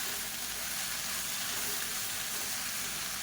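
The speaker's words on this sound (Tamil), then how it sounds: "இப்போ இந்த இலை சுருங்குற அளவுக்கு மட்டும் வதக்கினா போதும்" Mint and coriander leaves sauté in a pan for a coconut-free mint chutney. A steady, even hiss of sizzling oil continues without pause, and no voices are heard.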